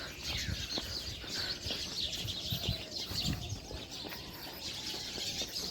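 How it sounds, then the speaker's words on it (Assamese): Birds call from a big tree near a mosque under construction, with many faint chirps and tweets overlapping in a continuous, fairly distant chorus over a low background rumble. "শুনক কি ধুনীয়া চৰাই মাত।"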